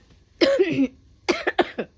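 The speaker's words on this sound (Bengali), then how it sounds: "আমারও কাশিটা হচ্ছে" A woman coughs nearby: one harsh cough, then a quick burst of two or three shorter coughs, with nothing else in the background.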